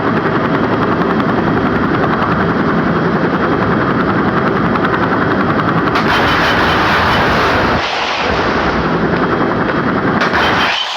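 In the zombie mobile game Left to Survive, a helicopter's loud thudding rotor drones throughout while rapid bursts of machine-gun fire rattle over it, briefly dropping out near the end before resuming.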